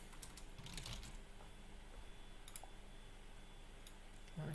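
Faint, scattered key clicks come from a computer keyboard as notes are typed in a quiet room, in short irregular bursts.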